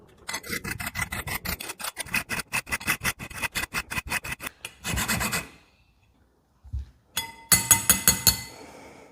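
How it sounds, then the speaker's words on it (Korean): Lemons are zested on a grater in quick rasping strokes, a rapid rhythmic run up close, then a brief pause and another burst of scraping. "다른 것들도 마저 제스트 해줍니다."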